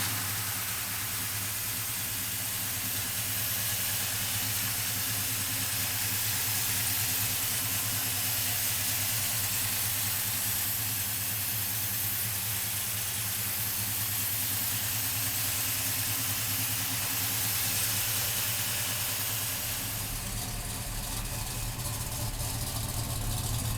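A 1968 Dodge Charger with a 440 engine idles steadily, with a loud, close, continuous rumble and no voices.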